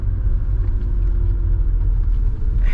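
A BMW 730i with a 3-litre engine and 5-speed manual gearbox cruising at a gentle pace, giving a steady low engine rumble and road drone heard from inside the car, continuous and fairly loud.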